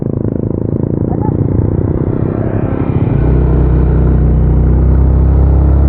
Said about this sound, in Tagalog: yan yung motor nila